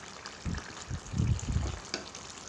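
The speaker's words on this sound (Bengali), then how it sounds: "এবার আমি ভেজে রাখা মাছের মাথার টুকরোগুলো দিয়ে দেব। দিয়ে ভালোভাবে নাড়াচাড়া করে নেব।" Pieces of fried fish head drop into a pan for a bottle gourd curry and are stirred, giving soft sizzling and low scraping, shuffling stirs in a few uneven bursts.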